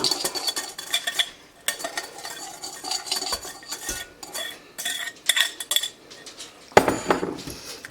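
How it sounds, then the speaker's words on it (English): Spiced cupcake batter mixed by hand in a bowl after wet ingredients are added to the dry, with repeated scraping strokes and light utensil clinks against the bowl in uneven bursts, close up and without speech. "we're just going to mix it until it is all incorporated"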